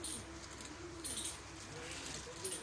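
Pigeons coo softly in an aviary at a wildlife breeding center in Faisalabad, with low repeated calls and a few faint higher chirps over quiet background.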